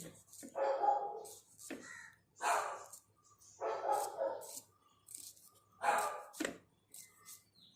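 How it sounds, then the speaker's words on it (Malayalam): A dog barks in repeated bursts, several loud barks spaced across the scene, close by, with kitchen sounds while vegetables are being prepared. "എന്താടാ കിടന്ന് കുരയ്ക്കണത്"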